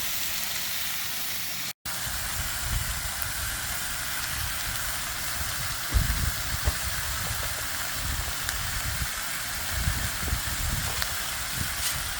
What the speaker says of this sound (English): I'm sauteing some peppers and onions for fajitas.